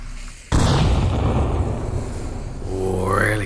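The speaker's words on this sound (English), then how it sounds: "That nade landing right next to him, just on the other side of the bollards." A grenade blast in the VR shooter Onward, one sudden loud boom followed by a long rumbling decay, close by, with a brief voice near the end.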